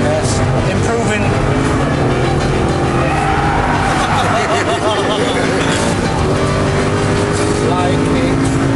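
An Aston Martin V8 Vantage drifting on a track with its tail out, the engine roaring loud and close while the tires squeal and skid continuously throughout.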